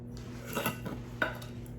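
A spoon stirs dry spices, including garlic, parsley, oregano and granulated onion, in a bowl, giving a couple of soft scrapes and a light clink, close and quiet with no voices.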